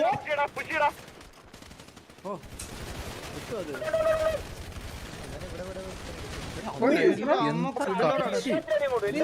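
Rapid bursts of automatic gunfire from a shooting video game, including gunshots coming from a character's radio, with overlapping excited voices talking over the shots throughout.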